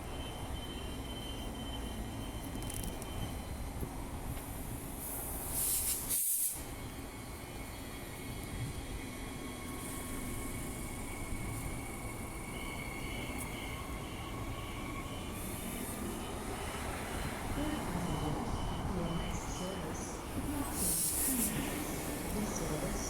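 Steady rumble of a train at Murdoch Station, with continuous rolling noise and brief squeals and hisses rising over the low drone; no talking.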